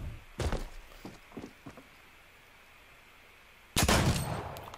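Weapon shots in Fortnite season 7 aimed for headshots: a few sharp bursts early on, a quiet stretch, then one loud blast near the end, with no talking over them.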